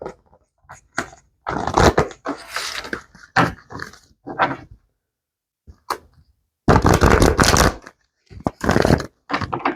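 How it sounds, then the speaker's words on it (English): Bursts of riffling and flapping as a deck of tarot cards is shuffled several times close up, separated by short silences and a few sharp taps. "I'm going to give it a couple shuffles."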